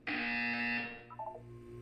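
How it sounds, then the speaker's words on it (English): A loud electronic buzzer sounds once for nearly a second, then fades into a few short, faint electronic tones, from the video game Portal 2. "When you hear the buzzer, look up at the ceiling."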